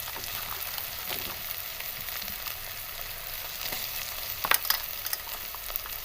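Spinach and radish curry with spices fries in a pan, giving a close, steady sizzle with occasional stirring scrapes and a brief louder burst near the end.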